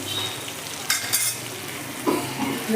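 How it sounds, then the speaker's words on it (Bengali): A spoon scrapes and stirs a warm sauce in a pan, with oil from fried chicken added, making a soft sizzle broken by a few sharp utensil clinks against the metal. "সসটাকে নেড়ে নেব"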